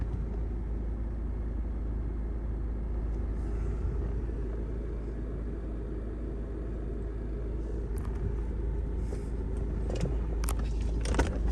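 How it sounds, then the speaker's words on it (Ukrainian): A 2006 Lexus IS 220 with its engine running at a smooth, even idle, a steady low rumble heard up close, with a few faint clicks and knocks near the end. "Автомобіль заводиться ідеально, працює рівно"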